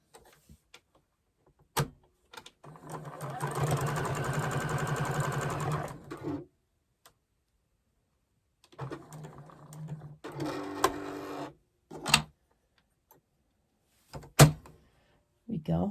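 Sewing machine stitching white and printed quilt fabric pieces together for a winter barn quilt, running in two close bursts of steady whirring with clicks and thumps between, and a brief spoken phrase.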